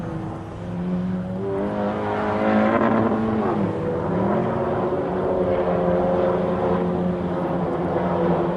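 A field of VW Scirocco R-Cup race cars runs at the EuroSpeedway, engines rising and falling together in a loud, continuous multi-car drone with shifting pitches as the pack passes.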